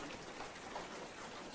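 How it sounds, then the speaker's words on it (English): Steady rain patters on a roof, a soft, even hiss of countless drops heard faintly and continuously with no voices over it. "the ambient sound of the rain hitting the roof"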